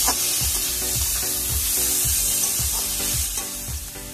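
Tomatoes fry in a pan for egg tadka, giving a steady bright sizzle with rhythmic low scraping as a spoon stirs them about every half second, close and continuous.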